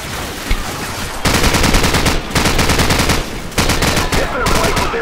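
Loud, close machine gun fire in the Call of Duty 4 video game, rattling in long rapid bursts split by brief pauses, with a voice faintly underneath.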